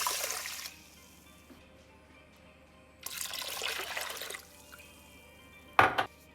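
Water being poured into a pot of rice for sushi, heard as two bursts of rushing, splashing flow separated by a quiet pause, followed by a brief sharp knock near the end, close and fairly loud.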